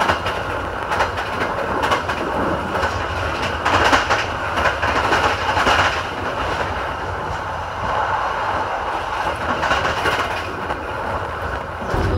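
Gajahwong executive passenger train arriving at Jatibarang station, a steady rumbling roll with rhythmic clacking of wheels over rail joints, loud and continuous throughout beneath a covered platform roof.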